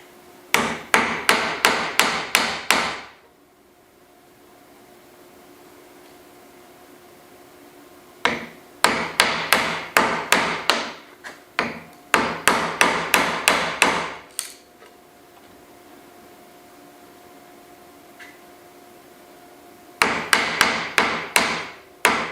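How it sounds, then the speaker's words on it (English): A hammer drives a sharp wood chisel to chop out a notch between two table-saw cuts in a handmade wooden architrave, in loud, close runs of rapid sharp strikes separated by quiet pauses. "I'm just going to cut it out with a wood chisel."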